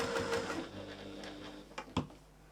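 A domestic sewing machine stitches fabric with a steady mechanical whir and rapid needle rhythm, then slows and stops with a couple of sharp clunks near the end.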